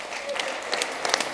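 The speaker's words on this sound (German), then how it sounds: "heisset mit einem Applaus herzlich willkommen der Timmermann." A live audience claps to welcome a performer on stage, a short burst of scattered, moderately loud applause from a crowd.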